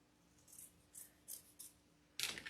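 Scissors snip several times along the edge of a patriotic wreath, with quick, crisp cuts at close range in a quiet room, ending in a louder rustling cut.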